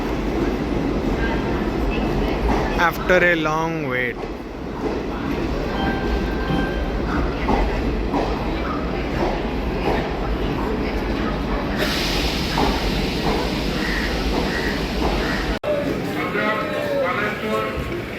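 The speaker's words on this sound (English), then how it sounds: "Finally the train has arrived" A train pulling in at a railway platform, a continuous low rolling rumble with clatter under someone talking nearby, plus brief squeaks and station noise.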